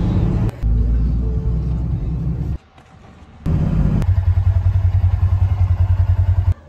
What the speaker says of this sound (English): So now Pop's going to pull the truck around.